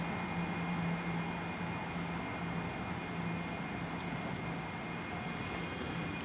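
A ScotRail train pulls into Haymarket station, Edinburgh, as a steady, broad rumble with a low hum that holds at an even level throughout, with no sharp events and no talk.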